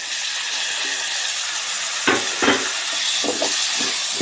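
Onions with a little turmeric sizzling in a pan, a steady soft frying hiss with a few scraping stirs of a spoon near the end, no talking.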